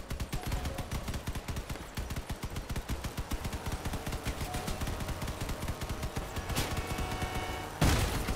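Rapid, steady weapon fire from the Avalanche gun on a spider tank in a video game, a long rattling stream of shots ending in a heavier burst and crash near the end.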